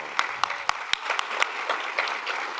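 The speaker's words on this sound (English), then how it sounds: "can we give Matt a huge round of applause, please, guys?" A convention audience at a streaming panel at PAX South 2016 bursts into applause, with a few sharp individual claps up front over a lively crowd of clapping.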